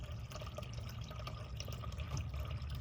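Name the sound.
waste water draining and rinsing out of RV gray tank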